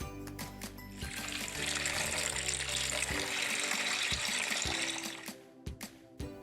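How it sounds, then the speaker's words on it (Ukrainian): Water pours steadily in a continuous, close splashing stream for several seconds, with a few clinks at the start and end. "Правильно малята тільки що я наливала воду."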